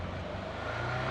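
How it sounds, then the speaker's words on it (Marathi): Vehicle engine humming steadily in a BGMI (Battlegrounds Mobile India) match, a short, quiet drone of a car driving nearby with no voices over it. "अजून एक गाडी आली"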